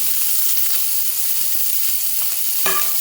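Onions hit hot oil with spluttering mustard seeds, raising a loud, steady, close-up sizzle that holds evenly throughout with a faint clatter near the end. No speech.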